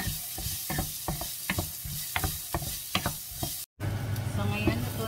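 Carrots tipped into a pan where onions have been frying until translucent, giving a steady close sizzle broken by sharp scraping stir strokes, then a brief cut and a fuller, louder frying hiss.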